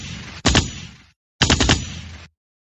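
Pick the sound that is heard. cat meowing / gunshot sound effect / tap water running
gunshot sound effect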